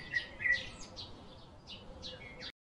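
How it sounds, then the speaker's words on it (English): Short, bright bird chirps repeat in quick bursts over about two and a half seconds, moderately loud against a soft hiss, then cut off abruptly. "This is a bird."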